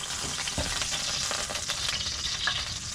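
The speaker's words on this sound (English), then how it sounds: "You're deep frying now." Baby potatoes fry in a generous amount of hot oil in a pan at an outdoor camp setting, a steady, close, crackling sizzle with occasional stirring clinks, no voices.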